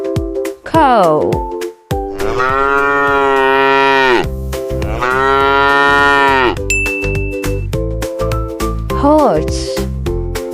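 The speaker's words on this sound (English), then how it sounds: "Cow." A cow gives two long, loud, drawn-out moos, close and full, between shorter lowing calls, with light chiming music and ding tones playing in the background.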